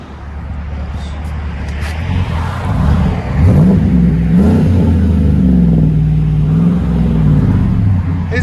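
A car exhaust running through an 11-inch Magnaflow muffler, a loud close engine revving up and holding a deep droning tone with rising and falling pitch swings, as if blipped, steady throughout.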